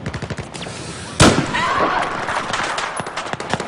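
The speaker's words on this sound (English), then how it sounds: "I'm glad that the sniper's actually deciding to work." A sniper rifle fires in Battlefield 4, a single loud, sharp shot with a long echoing tail in the middle, over a busy background of distant gunfire and soft game ambience.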